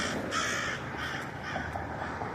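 A crow caws a few times outdoors, harsh repeated calls at moderate distance over a steady background hum.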